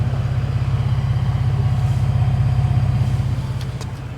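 A 2025 Ford Expedition Tremor with its high output engine idling, a steady, loud, low rumble with an even pulsing throb, heard close up and alone without talk.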